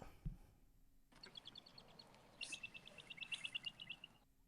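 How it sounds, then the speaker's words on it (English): Small birds chirp and tweet in a quiet outdoor setting, with a cluster of short, high calls rising over a soft background hiss, the bursts growing busier toward the end before stopping. "I like the birds chirping."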